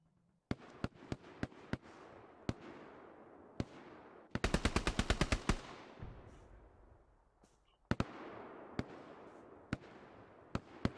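Gunfire in the World War II video game Hell Let Loose: sharp single shots crack out at intervals, broken by a fast, loud automatic burst, with more scattered shots and distant reports following.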